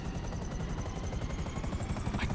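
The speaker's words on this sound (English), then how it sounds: "Because I can fly fast and low across the water in a dark-coloured helicopter." A dark-coloured helicopter in GTA 5 flies fast and low across water, its rotor producing a loud, steady, rapid thumping chop that continues throughout with no talk.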